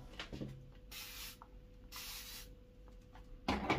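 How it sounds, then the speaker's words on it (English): A spray bottle mists the face before a shave, two distinct close hissing bursts of about half a second each, with faint rubbing and a final louder rustle. "Just a little mist."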